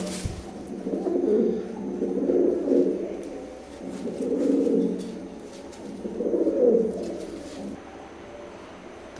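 Teddy pigeons of an Oman bloodline, a baby zero-feather pair, coo in four slow, rounded bouts with short pauses between, close and clear over a quiet background.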